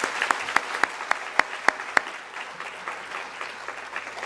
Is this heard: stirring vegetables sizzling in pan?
no